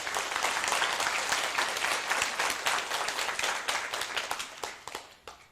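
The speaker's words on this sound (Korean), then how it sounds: "박수 한번 치세요" An audience claps together in a steady, dense burst of applause that stays loud throughout, then thins into scattered claps and fades out at the end.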